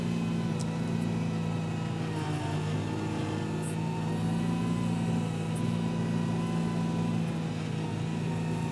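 Arva Industries MS260 RC scaler with a speed-sensitive automatic shifting transmission drives along with a steady, close electric motor whine and faint gear hum, holding an even tone throughout with small shifts in pitch.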